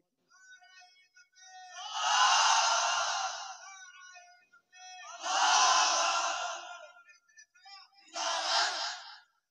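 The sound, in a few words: crowd shouting takbir together at a waz gathering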